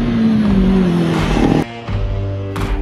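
A student-built Formula SAE race car engine runs loud and close with a high, sustained tone whose pitch slides slightly, then cuts out briefly and resumes at a lower, steady pitch.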